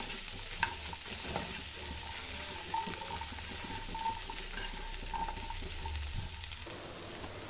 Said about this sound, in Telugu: బాగా కలుపుకోవాలండి ఈ మసాలా అంతా శనగలకి పట్టేది ఇలాగా